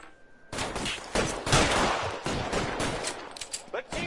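Gunfire in the video game L.A. Noire, a dense, loud burst of rapid shots and fusillade bursting in after a brief quiet start and sustained for several seconds, with faint voices mixed in.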